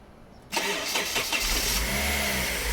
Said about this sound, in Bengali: দেখেন আমরা গাড়িটা স্টার্ট করলাম স্মুথ সাউন্ড এবং দুই হাজার সিসি রনটিয়ার ভিভিটিআই ইঞ্জিন